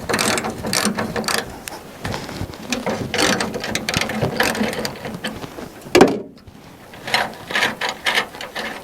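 Rapid ratchet clicking in close bursts as seized bolts are worked free on a 1961 Buick Electra left parked for over 40 years, with a short pause and a metallic clunk before the clicking resumes.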